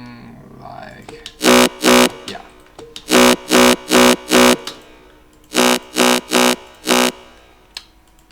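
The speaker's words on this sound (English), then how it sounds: "second is this reverse bass that I made" Reverse bass synth sound made for a remix, repeated in loud, evenly spaced buzzy stabs in three groups, with quiet talk between the bursts.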